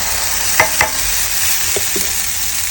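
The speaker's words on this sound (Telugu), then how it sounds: "పచ్చిమిర్చి కొద్దిగా వేగితే చట్నీ చేద్దామని చెప్పి వెయిట్ చేస్తున్నాను." Green chillies frying in a hot pan, a steady broadband sizzle with a few brief stirring clatters, close and fairly loud with no talking.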